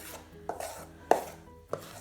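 A butter knife works a quiche short-crust pastry mixture in a bowl, three sharp scraping knocks spaced roughly half a second apart over a quiet background.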